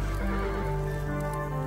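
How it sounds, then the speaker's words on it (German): A horse in the pixel-art strategy game Kingdom Classic snorts and whinnies after running, set against a steady tonal music bed without speech. "mein Pferd ist, das seht ihr, es schnaubt"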